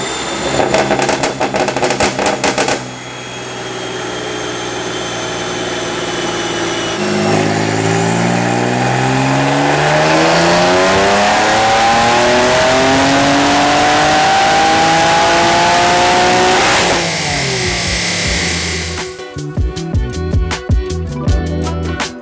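BMW S55 engine with upgraded turbos, running E90 tuning, methanol injection and custom F80 tuning, accelerating hard: a loud, close engine note climbing steadily through the gears for about ten seconds, then a shift and turbo blow-off chatter near the end.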